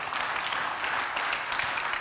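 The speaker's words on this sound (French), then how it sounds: "Applaudissements." Applause at a business conference on growth strategy, a steady dense wash of clapping from the audience with no voices over it, held at a fairly even level throughout.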